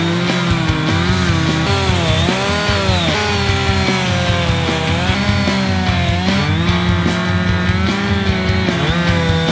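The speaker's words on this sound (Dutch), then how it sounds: "een Alaskan mill is een soort van kettingzaag" A chainsaw on an Alaskan mill roars continuously at full throttle, its pitch dipping and recovering as it cuts a log into planks, loud and close.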